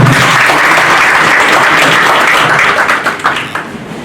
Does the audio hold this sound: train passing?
no